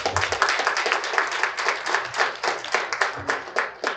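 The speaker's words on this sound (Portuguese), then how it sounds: "Receberemos com uma salva de palmas" Audience clapping at a community lecture on violence, welcoming a priest to the stage; a few dozen hands beat in a fairly steady, moderately loud rhythm without any voices.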